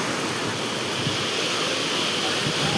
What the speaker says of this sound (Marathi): किती भारी ह्या टायमाला खूप अशा लाटा आहेत बरं का पाण्याच्या.